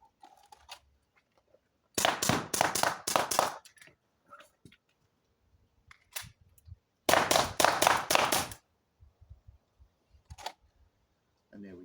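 Air rifle and pistol shots fired during an El Presidente drill, two rounds to each target with a speed reload: two tight bursts of about six sharp cracks each, separated by a pause, followed by a few softer clicks and handling noises.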